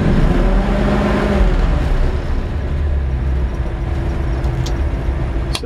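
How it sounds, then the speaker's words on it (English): 1951 Ford F1 pickup truck engine idling up close, a steady low rumbling drone with uneven throb that holds throughout, with faint ticking near the end. "And that's how they idle like that."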